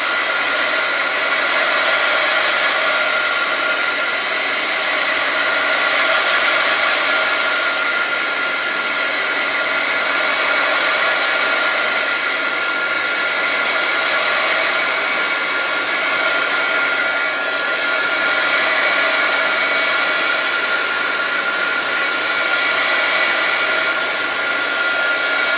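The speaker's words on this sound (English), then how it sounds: "I'm gonna use my heat gun on this just to make sure it's dry" A heat gun drying a stamped greeting card roars in a loud, steady blast for the whole stretch, close by and alone.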